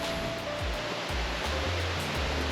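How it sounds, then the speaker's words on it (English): Fast-flowing creek water from snow runoff near a waterfall rushes in a dense, steady broadband roar, close and loud throughout with no voices. "Very quick water."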